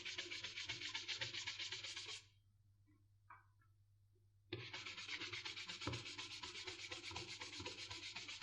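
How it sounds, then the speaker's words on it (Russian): A python leather money clip is polished by hand, with close, quiet, steady rubbing strokes that pause for about two seconds before the brisk scratchy rubbing resumes. "после чего также перехожу к полировке."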